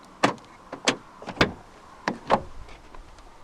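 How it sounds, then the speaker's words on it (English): Door locking button on a 2015 Renault Clio 1.2 16v operated twice, locking then deadlocking: five sharp mechanical clunks and actuator clicks in two quick groups, close and alone with no talk. "Press this black button to lock the car. Press it once more to activate the deadlocking system."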